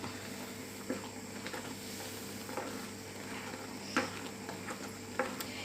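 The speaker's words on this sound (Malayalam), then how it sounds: "നന്നായി തിളയ്ക്കുന്നുണ്ട്." A pot of coconut curry with ash gourd, a Kerala buttermilk curry, boils steadily, giving a faint, continuous bubbling hiss broken by a few soft pops, with no one talking.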